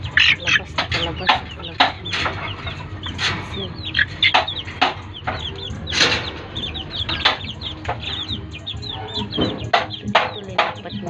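Hens and chicks in a coop cluck and peep in quick, overlapping bursts close by, a busy chorus of fowl throughout, with a person speaking briefly among them.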